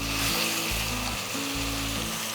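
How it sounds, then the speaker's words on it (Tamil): A pan fries with a loud, constant sizzling hiss, while a low humming drone pulses underneath. "நல்லா ஃப்ரை பண்ணி எடுத்துக்கலாம்."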